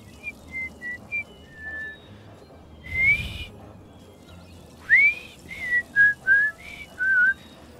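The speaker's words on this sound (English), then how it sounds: "Okay, my whistling, not great." A person whistles a short five-note melody from Fallout 3, clear, close and unaccompanied, the notes spaced out and some sliding in pitch.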